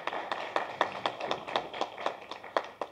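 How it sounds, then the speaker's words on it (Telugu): A seated press-meet audience claps for a young first-time film director, sharp irregular claps that are fairly soft and spread out, with no voices over them. "I request you to give a big clap to this young boy"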